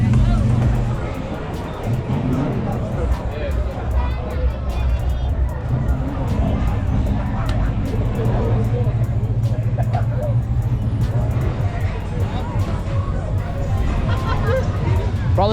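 A dense crowd mills about at a car festival, with overlapping chatter and babble mixed with a steady low rumble of idling vehicles nearby, continuous throughout.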